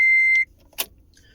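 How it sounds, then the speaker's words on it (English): A single loud electronic beep, steady and piercing, sounds for just under half a second close by, followed by a faint click and quiet. "sorry for the loud beep."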